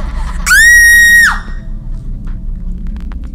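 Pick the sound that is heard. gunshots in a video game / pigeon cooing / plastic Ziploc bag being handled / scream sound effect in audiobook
scream sound effect in audiobook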